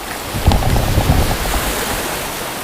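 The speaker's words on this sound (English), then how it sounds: "There's a lot of rapids out here." Rushing water from rapids on the Llano River in Texas, a broad, steady roar of turbulent flow with no voices, holding an even level throughout.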